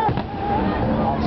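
Firework cannons booming and crackling at an outdoor display, a dense continuous rumble of bursts with someone talking excitedly over it.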